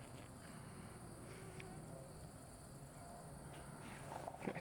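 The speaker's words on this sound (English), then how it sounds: "there's a lot of mosquitoes right now." Many mosquitoes swarm outdoors, making a steady, close whining buzz that holds throughout with no gaps and swells slightly toward the end.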